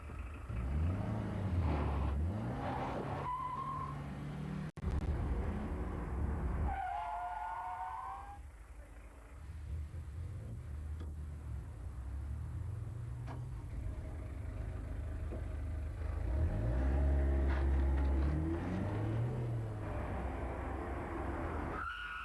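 A car driving at about 50 km/h on a test course and braking to stop just short of an obstacle, heard as a low rumbling engine and road noise with tyre squeals, fairly faint and distant, rising again toward the end.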